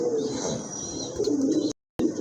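Pigeons, white Danish and grizzle birds, cooing softly in repeated low murmurs, fairly close, with a brief dropout near the end.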